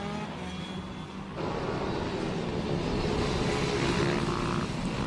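Junior Supermoto motorcycles race down the back straight at Red Lodge, their engines a dense, loud roar that swells after the first second and holds steady. No voices are heard.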